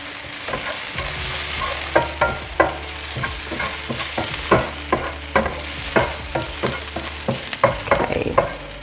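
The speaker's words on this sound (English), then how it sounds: "Fry that off slightly, get a lovely aroma, bring back in the onions and mix it through." Onions frying in a pan, with a constant sizzle and repeated scraping, clattering strokes from a utensil stirring them at an uneven rhythm, close and clear with no talking.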